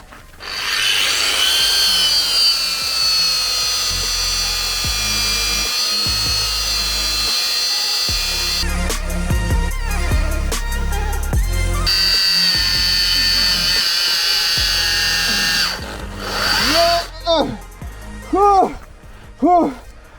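A Bosch GWS 24-230 JZ angle grinder whines steadily, its pitch sagging and shifting as it bogs down under load, then cuts out near the end as a voice briefly speaks.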